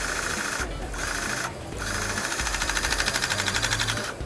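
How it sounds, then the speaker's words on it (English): A PR-5 high-pressure riveter gun with flattening dies hammers a surface flat. It makes a loud, rapid, steady buzzing chatter in bursts separated by short pauses, close up. "we flatten out the surface perfectly flat with this high pressure gun and with the flattening tips"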